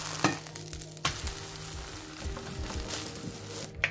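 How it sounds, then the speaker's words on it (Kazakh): A zucchini pancake fries over medium heat in a pan, giving a steady, soft sizzle with a few faint clicks and taps, close and quiet, and no one talks. "Блиннің әр жағын шамамен орташа отта 2-3 минут пісіреміз."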